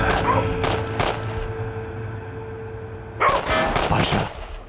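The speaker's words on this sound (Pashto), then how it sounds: "سپی غاپي سپی" A dog barking in a drama scene, heard as sharp, loud bursts near the start and again toward the end, with a thudding, gunfire-like quality and a low background hum between them.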